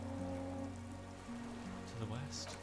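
In the video game Disco Elysium, quiet rain falls on reeds on a still islet, a constant soft patter beneath low held music tones, with a few brighter drips near the end.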